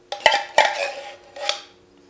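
A spoon scrapes and clinks against the inside of a metal can while scooping out thick cream of coconut, giving three short close knocks with brief scraping between them.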